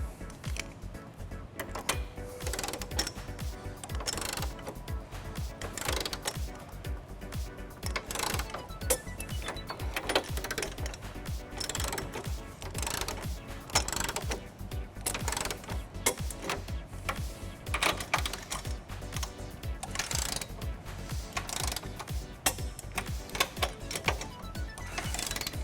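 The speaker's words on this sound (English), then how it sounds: "now we're going to tighten and torque all of our nuts to the manufacturer specification" A socket wrench ratchets a 19mm deep socket while tightening trailer hitch nuts on a 2010 BMW X5, giving a steady run of rapid, close clicking that continues without pause.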